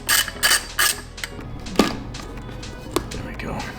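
A hand ratchet loosens the intake cover on a Harley-Davidson Forty Eight, three quick close bursts of clicking followed by a couple of sharp metallic knocks, faint background hum between.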